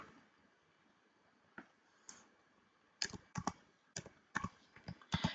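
A name is typed on a computer keyboard: a few scattered soft clicks, then a quick, close run of crisp keystrokes with small pauses between them, no talk over it.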